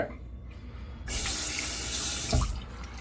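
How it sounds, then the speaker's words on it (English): Bathroom sink tap turned on for a rinse after a wet shave: after a quiet second, water gushes loudly and steadily into the basin, close by, with a brief splash near the end. "Alright guys, I'm going to get a rinse,"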